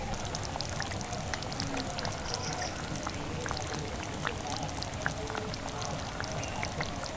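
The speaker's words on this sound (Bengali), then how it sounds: "আমি এর স্বাদটা যাতে আরেকটু ভালো আসে তার জন্য এক চামচ ঘি দিয়ে তবেই নামিয়ে নেবো" Frying papaya kopta curry with a spoonful of ghee going in gives a steady close crackle and bubble, with tiny pops spread throughout and no voices.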